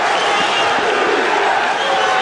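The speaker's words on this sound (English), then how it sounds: "This crowd is going bananas. Chants of Turkey, Turkey erupt for Birol Topuz" Arena crowd at a kickboxing fight in the Melbourne Sports and Entertainment Centre, a loud dense roar of voices chanting and cheering, sustained without a break.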